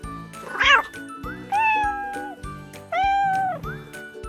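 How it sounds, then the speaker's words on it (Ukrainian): Three distinct cat meows, close and clear, each rising then falling in pitch, separated by short pauses. "Так, це котик."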